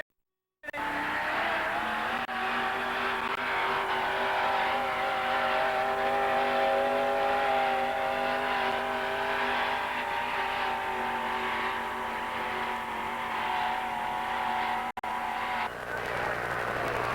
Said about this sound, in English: It's a full pull for Patty Bowden of Wharton, Ohio, with Studley Studebaker.